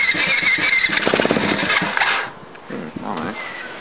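A mini bike's small engine cold starting with an old battery and no tuning yet: a close, uneven mechanical cranking chatter that sputters and drops off, then a brief second attempt.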